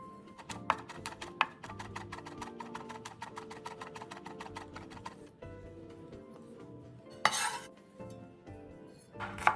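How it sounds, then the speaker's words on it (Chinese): Garlic cloves are smashed, then chopped with a knife on a board. Quick, regular taps run in a rapid series, followed by a louder crushing burst near the end. "蒜瓣2个，拍烂后再剁碎。"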